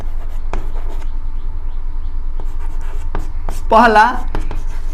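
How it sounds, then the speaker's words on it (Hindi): An arithmetic progression being written by hand with a pen, faint scratchy strokes and taps running under a speaking voice. "लिखेंगे यहां"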